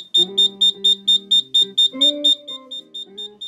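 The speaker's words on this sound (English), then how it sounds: "The smoke and gas detector detects the leak and alerts the security and the resident" A smoke and gas detector alarm in an apartment kitchen sounds a rapid, loud series of high-pitched electronic beeps over a low synthetic tone that shifts pitch partway through.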